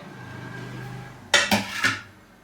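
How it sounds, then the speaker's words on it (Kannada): Three quick metallic clanks of vegetables dropping into a pressure cooker ring out close by against a faint background hum. "ತರಕಾರಿ ಹಾಕೋತಾ ಇದ್ದೀನಿ ಕುಕ್ಕರ್ ಒಳಗಡೆ"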